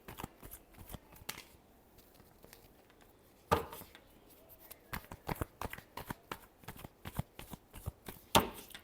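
Tarot cards are shuffled up close, giving crisp riffling bursts and soft papery slaps in uneven clusters, with a short quiet pause partway through and no speech.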